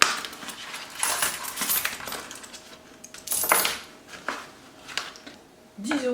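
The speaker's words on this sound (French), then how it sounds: "dans l'épargne du mois, il me reste donc de la monnaie" Loose coins clink and rattle in brief bursts while being handled and counted, with light clatters spread across the moment and a faint background hum.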